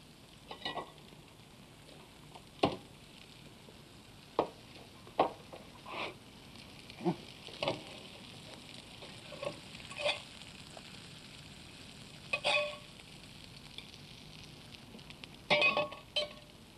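Steaks on a very hot plate give a low background sizzle, broken by scattered sharp pops, taps and clinks that come at irregular moments, mostly soft and close.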